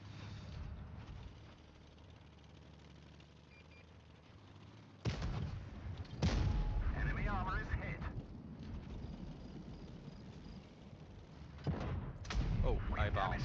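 Tank cannon fire in a World of Tanks-style game with Chinese light tanks: sharp booming shots around five, six and twelve seconds over steady engine rumble, with a player talking throughout.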